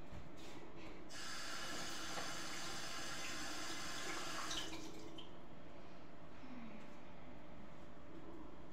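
Kitchen tap water running and splashing as a knife is rinsed, a steady hiss that starts about a second in and cuts off near five seconds, followed by drips and a quiet room.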